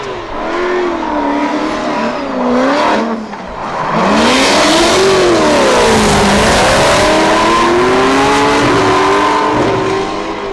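A Formula Drift competition car drifts through the outside zone at the St. Louis event, its engine revving hard and wailing up and down with tire squeal, loud and close with no talk.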